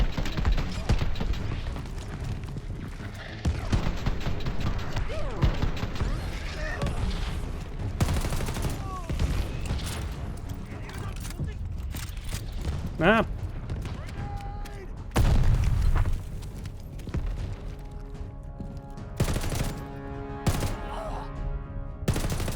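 Rapid bursts of gunfire and heavy explosions from Call of Duty: Vanguard on PS5, loud and close, with repeated automatic fire, sharp single shots and booming blasts spread across the stretch, partly under a player's talk.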